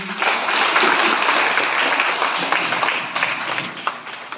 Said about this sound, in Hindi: तालियां दे देंगे हम लोग।